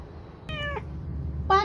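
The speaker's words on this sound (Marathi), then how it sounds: "पा कशी मांजर आज कशी टायमावर आली. कशी लागली दांगडू करायला." A house cat meows twice, two short clear calls close by with a brief gap between them, over a faint low background hum.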